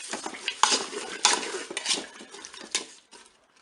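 Sugar and apricots stirred in a Cookeo pot, close scraping and clinking of a utensil against the metal bowl in irregular strokes, fading to quiet at the end.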